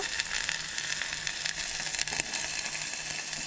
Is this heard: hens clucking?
no